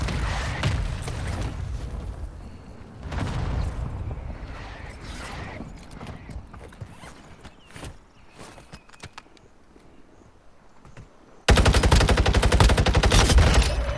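Gunfire in the mobile shooter Warzone Mobile, with bursts of rapid shots and scattered single cracks through the clip, then a dense, loud stretch of sustained fire at the end.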